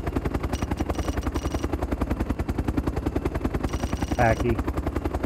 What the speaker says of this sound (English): Got another chopper coming in.